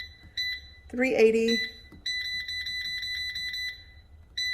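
An air fryer gives a short chirp, then after a spoken number lets out a run of steady high electronic beeps in quick pulses while the temperature is set, close and clear.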